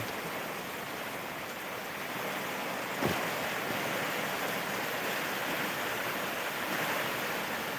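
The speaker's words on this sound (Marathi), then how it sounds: "पाऊस चालू आहे मित्रांनो" Rain falling steadily as a thick, even wash of noise, with a brief thump just past the three-second mark and no one talking.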